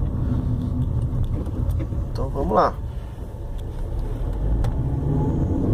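A car's engine pulls steadily under acceleration in second gear during a fuel cut-off test, a continuous mid-level drone inside the cabin with someone talking over it.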